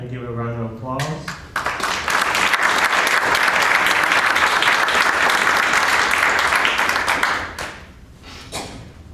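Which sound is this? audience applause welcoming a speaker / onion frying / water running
audience applause welcoming a speaker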